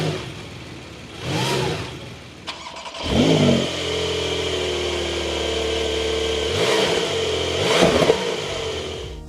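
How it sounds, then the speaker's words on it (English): A Porsche 911 992 cold start: the starter whirs, then the engine catches with a loud flare of revs and settles into a steady, fast idle, close by, with a couple of further rises in revs. "Now I think it's time for the all-important cold start."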